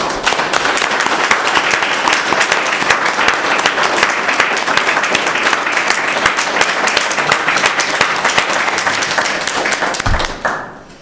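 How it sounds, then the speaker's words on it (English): Sustained audience applause at a county sheriff candidate forum, dense steady clapping from a crowd lasting about ten seconds before tapering off abruptly at the end. "I would hope that you would give them a warm applause and thanking them for being out there."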